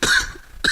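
Two short, harsh coughs burst out close by, one at the start and another just after a brief gap.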